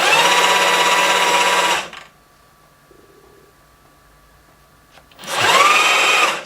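Bosch GCB 18V-127 cordless band saw running at speed setting 3, a steady loud mechanical whir that cuts off to near silence for a few seconds, then starts up again at full volume.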